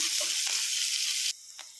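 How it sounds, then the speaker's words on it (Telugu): Carrots sizzle in a pan, a steady loud frying hiss that suddenly drops to a quieter simmer near the end, with a brief soft stir. "క్యారెట్ అయితే ఫ్రై అయింది"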